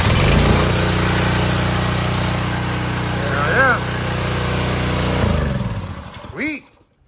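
A Ryobi 2900 2.5 GPM pressure washer's engine running at a steady close drone, with a couple of brief squeaky sounds over it before it cuts off near the end.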